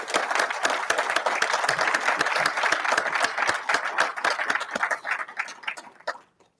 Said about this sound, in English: let's give them another round of applause to thank them